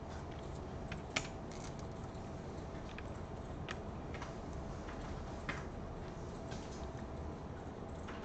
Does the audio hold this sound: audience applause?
no